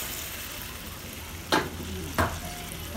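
Pork with shrimp paste sizzling steadily in a pan, broadband frying hiss throughout with two sharp scraping stirs of a utensil against the pan bottom, close and alone.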